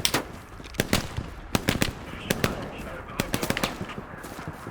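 A mounted machine gun fires in a World War shooter game, with sharp irregular bursts and single cracks at moderate distance over a low background.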